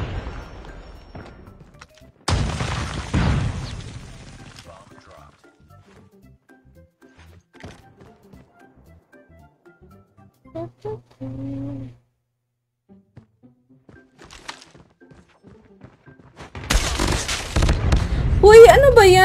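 Sharp bursts of gunfire sound at the start and again near the end, with quieter clicks and thuds in between.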